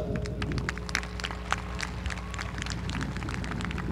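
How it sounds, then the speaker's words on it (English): A graduation ceremony crowd for Edcouch-Elsa ISD in 2023 applauds the central office staff; many hands clap in a sustained, crackling wash with sharper individual claps poking through, filling the hall evenly from start to finish. "let's give a huge round of applause for our central office staff"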